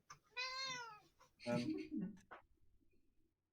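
A cat gives a clear, drawn-out meow close by, followed by people talking.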